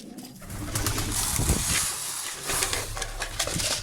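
Domestic pigeons cooing in a loft at feeding time, a steady low murmur of overlapping coos with a few wing flutters, fairly close and continuous throughout.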